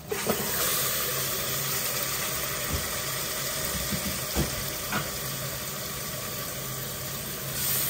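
Loud, continuous sizzling of mutton added to hot spiced oil, with occasional clinks and scrapes of a utensil, close by and without speech.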